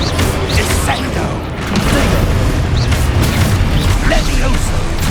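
A spell cast in Hogwarts Legacy lands with a heavy magical boom and crunching impact, loud and layered over busy game ambience, while a voice speaks.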